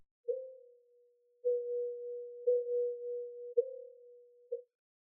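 Five evenly spaced hits from a snare drum, filtered to its second harmonic band, ring out as hollow, tone-like pops, each decaying smoothly into a short hum before the next, alone in silence.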